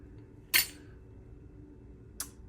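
Metal spoon clinking against a glass while stirring an alcohol-free smoky mint julep with lime juice and smoked salt, two sharp isolated clinks, the first louder, separated by quiet.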